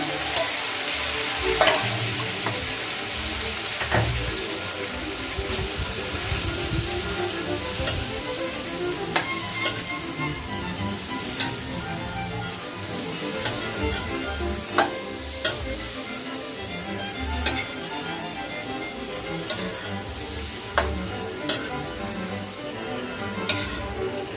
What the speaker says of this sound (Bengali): এবার আমি এই তরকারিগুলো দিয়ে দিলাম, কাটা সবজিগুলো